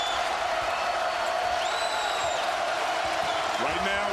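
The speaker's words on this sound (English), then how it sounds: "Crowd on its feet." A basketball arena crowd at a West Virginia versus Notre Dame college game rises to its feet. The roar is a steady, distant wash of cheering beneath a commentator's voice.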